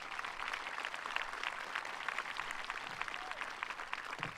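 Graduation ceremony crowd applauding top-ranked graduates, a dense, continuous patter of many hands clapping in a large hall, steady and moderately loud for the whole stretch.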